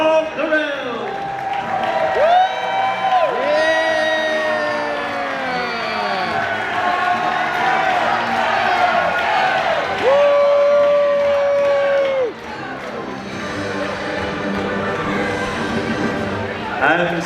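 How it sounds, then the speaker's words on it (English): The audience at a Medieval Times dinner and tournament show cheers and whoops loudly, with sustained crowd shouting, clapping and long rising yells that continue throughout, ending with a drop in volume. "band together now, raise a final cheer for all of your knights of the realm."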